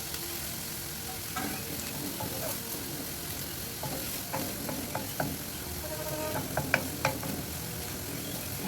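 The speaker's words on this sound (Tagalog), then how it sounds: "So, hayaan natin maluto konti yung sibuyas. Habang ginigisa yan guys" Onions sautéing in oil in a pan for a Lebanese stuffed potato dish, a steady close sizzle with occasional stirring scrapes and clinks throughout, no talking.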